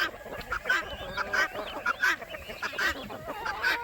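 Geese and ducks on a farm honk repeatedly at feeding time, a busy overlapping chorus of nasal calls at moderate distance.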